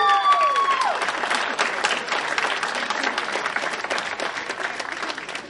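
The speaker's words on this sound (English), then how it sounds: "I hope that applause means I said it right." Audience at a university awards ceremony applauding a recipient, full steady clapping from a large crowd that tapers slightly toward the end, with a brief tonal sound at the start.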